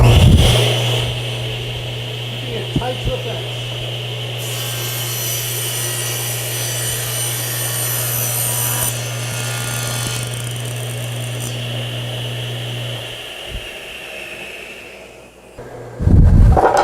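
A table saw fitted with a micro jig splitter runs with a loud steady hum and whine while cutting wood, the blade's tone rising and falling through the cut before spinning down near the end.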